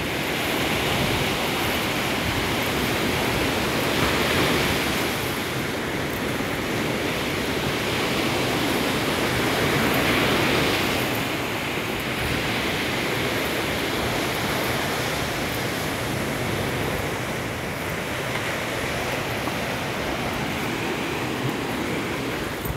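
Steady broadband surf from waves along Hastings Beach on Barbados' south coast, heard from the boardwalk as a continuous wash that swells a little around five and ten seconds, with no voices.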